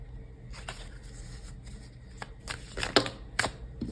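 Tarot cards being shuffled and handled to draw a card for a love reading, soft riffling and flicking with a few sharper snaps, close and fairly quiet.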